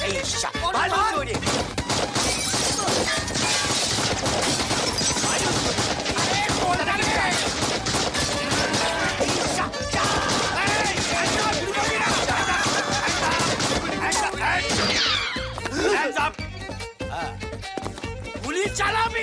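Gunfire sound effect in a Bengali comedy film scene, dense rapid bursts of loud shots filling most of the stretch and fading into scattered cracks near the end, with voices mixed in.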